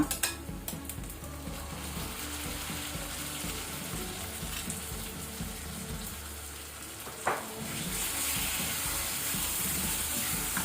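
Ground masala frying with onions in a pan on low to medium flame for clams sukkha, a steady close sizzle with occasional stirring scrapes and a brief clatter, no voices.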